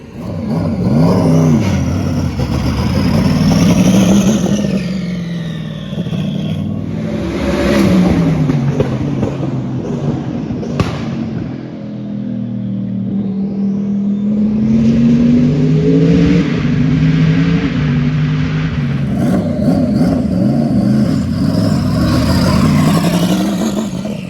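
A race car engine at Pikes Peak hill climb testing revs and surges repeatedly, pitch sweeping up and down with a steady loud whir throughout, no talking.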